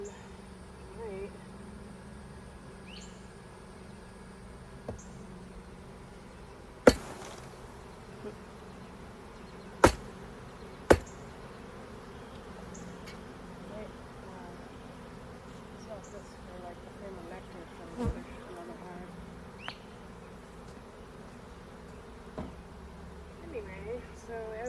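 Honeybees hum in a low, continuous drone during a hot June hive inspection, with occasional sharp clicks and knocks from frames and equipment over the steady buzz.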